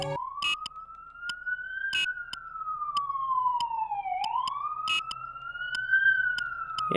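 An ambulance siren sound effect in a Game & Watch game wails steadily and loudly, rising and falling in long slow sweeps, broken by short sharp electronic blips. No one speaks.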